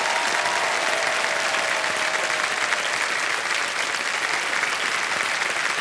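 A studio audience on the quiz show KBC applauds loudly and continuously, a thick, unbroken wash of many hands clapping at once with no letup.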